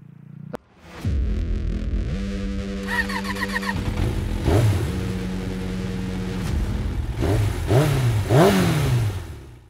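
A Mio Gear 125 motor scooter engine revs and accelerates up close while riding, pitch rising and falling through several throttle bursts, loud and continuous with no talking.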